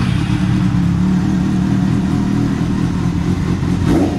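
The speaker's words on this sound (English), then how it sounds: "There's nothing like a Kawasaki rev" A Kawasaki motorcycle engine runs loud and close, a steady rumbling drone that holds throughout with a slight swell near the end, and no voices over it.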